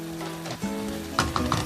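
A South Indian salmon curry sauce, spicy with lots of chilli, sizzles steadily in a pan as it is stirred, with a few brighter scraping and bubbling accents near the end; no talking.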